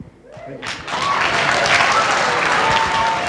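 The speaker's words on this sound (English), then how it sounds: "let's save the applause for the very end" Applause from a school audience at a student panel breaks out suddenly after a brief quiet moment, then holds as full, steady clapping with faint voices underneath.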